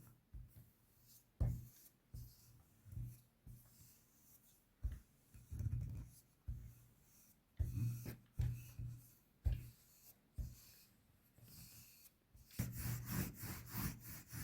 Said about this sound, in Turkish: merdaneyle de narin hareketlerle açıyorum